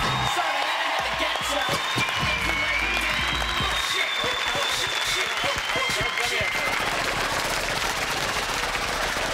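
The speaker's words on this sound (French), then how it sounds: "Applaudissements, mesdames, messieurs, applaudissements." Studio audience applauding at a French live TV show, a dense steady wash of clapping with a few whoops, loud and continuous throughout.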